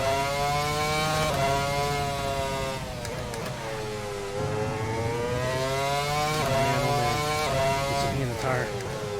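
A 2005 Formula 1 car's engine revs hard in Assetto Corsa at Imola, a loud, high-pitched wail that climbs and drops through gear changes. Someone talks over the scream continuously.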